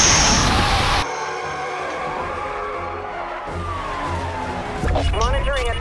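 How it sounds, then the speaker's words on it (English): A car in a video game chase runs over a released spike strip and suffers a tire blowout, with loud tire squeal and skidding followed by sustained engine and road noise, under a synthetic radio-style voice. "Monitoring a tire blowout."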